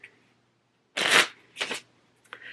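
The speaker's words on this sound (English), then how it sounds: "one more shuffle for good measure" Cards are riffle-shuffled in two brisk bursts, then a short snap and light rattle as the deck settles, close up and otherwise quiet.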